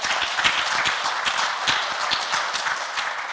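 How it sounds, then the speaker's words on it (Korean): A lecture audience claps steadily, a dense, even round of applause with distinct individual claps, lasting a few seconds. "버틸 것 같으면 박수 부탁합니다."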